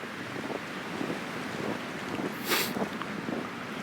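Blizzard wind roaring steadily past a backyard rabbit and quail enclosure, buffeting the microphone with a broad hiss that surges briefly in the middle, with no voices.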